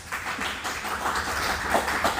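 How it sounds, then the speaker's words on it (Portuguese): A church congregation applauding during a service, with many people clapping in a continuous, moderately loud patter that holds steady throughout. "Vamos aplaudir a Jesus?"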